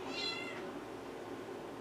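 A single short, fairly faint cat meow near the start, fading into quiet indoor room tone.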